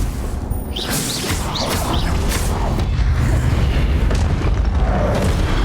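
Loud booming blasts from the Confringo fire spell in the Hogwarts Legacy game during a boss fight, with crashing bursts over a constant roaring din.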